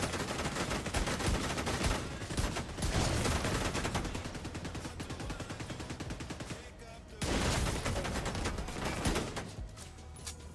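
Video game gunfire, sustained loud bursts of rapid shots with short breaks between volleys, dense and continuous for most of the stretch, almost no talk.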